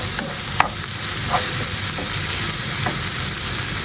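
Onions and green chilies frying in oil for a prawn fry, a dense close sizzle with a few sharp pops and spatula stirring, no talk.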